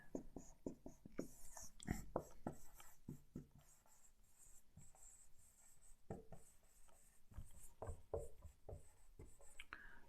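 Someone writes on a board in a classroom, making quick close scratching and tapping strokes in uneven bursts, fairly faint, with a brief soft murmur in the background.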